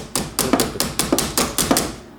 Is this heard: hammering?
yes